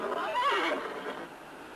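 A horse near a corral gives one close, loud whinny that wavers and trails off over under two seconds, with no voices.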